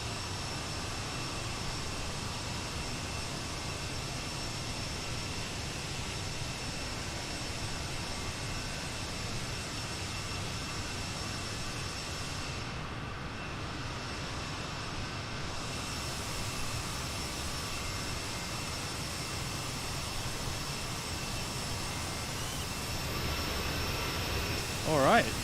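Steady jet engine roar of an Aerosoft CRJ regional jet taking off in Microsoft Flight Simulator, a continuous broadband rumble with high whine that holds at an even level throughout.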